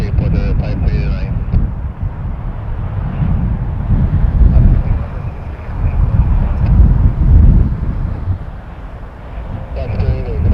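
An Airbus A320 airliner bound for Montreal takes off from runway 23 at Toronto Pearson: a steady, broad engine roar that swells midway and holds, with wind buffeting and voices talking near the start and end.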